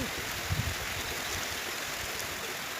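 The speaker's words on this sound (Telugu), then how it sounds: "వర్షం చూసారా ఎలాగా మోతలు పెట్టుకుంటూ వచ్చి మా చేలన్నీ చెరువు చేసేస్తుందో" Heavy rain pours down over flooded farm fields, a steady, dense hiss of water that continues unbroken from start to finish.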